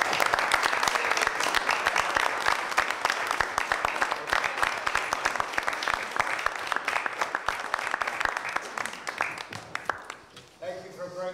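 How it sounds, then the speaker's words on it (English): A council meeting audience breaks into loud, sustained applause, many hands clapping in a fast, dense patter that thins and fades near the end, with voices audible beneath it. "That deserves a applause."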